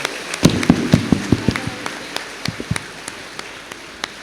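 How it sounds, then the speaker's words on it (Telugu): Church congregation at a festival service marking a death anniversary, clapping in thanks to God: a run of evenly spaced, sharp hand claps, then more scattered claps that thin out, fairly close and without talk. "ఇప్పుడు చప్పట్లు కొట్టండి దేవునికి కృతజ్ఞతగా"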